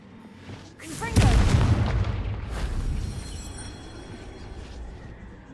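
A Confringo spell explodes in the Hogwarts Legacy video game, a single loud, deep boom that rolls on into a long rumbling decay, with a faint magical whoosh before it.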